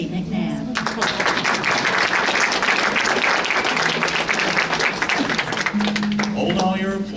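A school prom audience claps in steady, dense applause for several seconds, while an announcer speaks briefly at the start and end.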